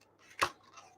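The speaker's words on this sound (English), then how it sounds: "moving our cardstock as we squeeze our blades of our scissors" Scissor blades snip once through cardstock during fussy cutting, a single short, crisp cut in a quiet indoor crafting setting, with faint soft rustles of the card around it.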